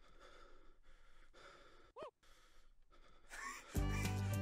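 Breathing and gasping sounds in a song, with soft breaths over a quiet backing, one sharp gasp midway, then music swelling loudly at the end.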